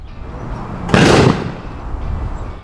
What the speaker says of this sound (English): these loud bangs pale in comparison to the damage these birds can do